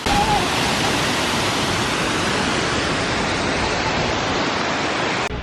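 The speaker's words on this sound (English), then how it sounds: "That was like a top 3 waterfall ever." Narada Falls at Mount Rainier pours in a dense, constant roar of falling water, loud and unbroken throughout, with no distinct voices above it.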